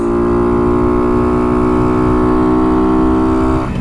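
Kuba RX9 motorcycle accelerating hard in third gear, a loud, close, steady engine drone rising gradually in pitch for several seconds before a brief shift near the end, with no talk.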